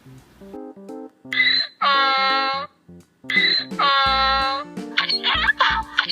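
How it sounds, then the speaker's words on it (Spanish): A donkey brays on a farm in two long, loud, drawn-out calls separated by short pauses, with a light melodic tune plinking underneath. "Burro."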